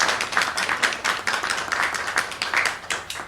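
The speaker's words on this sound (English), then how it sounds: "Let's give them a round of applause." A round of applause from the audience at a breakfast event honoring Guam's liberators, dense clapping continuing steadily for a few seconds with no voices.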